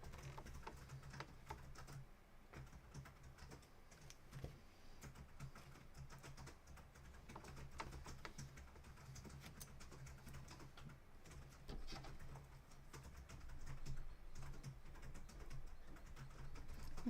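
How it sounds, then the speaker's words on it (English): Steady typing on a computer keyboard in the background, quick irregular key clicks continuing throughout, fairly faint, with a low hum underneath. "If you can hear typing in the background, that's my husband working away."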